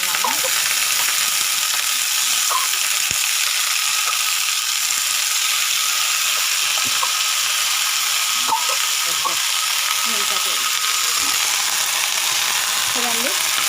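Gongura leaves and tomatoes fry in oil in a village-style kitchen, giving a steady, loud sizzle throughout with occasional scraping and stirring clicks, and no talking over it.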